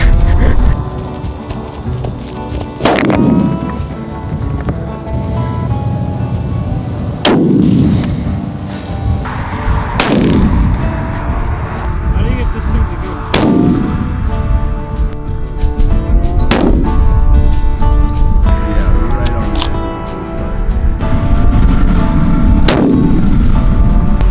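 Rifle shots fired during target practice on a Wyoming mule deer hunt, six sharp loud cracks spaced a few seconds apart, each ringing out with a decaying echo over steady outdoor background noise.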